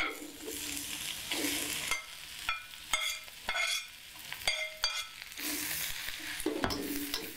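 Vegetables, including caisim, stir-fried in a pan for Indonesian mie goreng: steady close sizzling broken by repeated sharp scraping and clacking strokes of a spatula against the pan, no voices.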